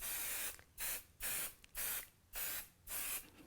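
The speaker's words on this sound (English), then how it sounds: "we pull out our trusty 505 glue. And then I'm going to spray" 505 spray glue sprayed onto a t-shirt laid over a box, six short close bursts of aerosol hiss in an even rhythm with brief silences between them.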